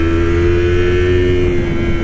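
A Yamaha MT-25 motorcycle engine held at high revs around 11,000 rpm, a loud, steady, continuous buzzing drone with a strong low hum throughout and no gaps.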